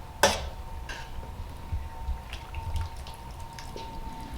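Apple juice drips from a colander into a pasta pan, a few soft, scattered drops and patters over a quiet background, with one sharper splash near the start.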